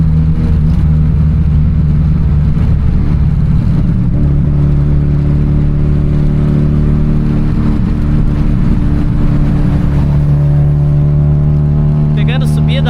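A 1991 Saturn SL2 with a 1.9-litre engine climbs a hill with the pedal floored, its engine drone loud and close inside the cabin, rising in pitch as it accelerates and pulling harder toward the end.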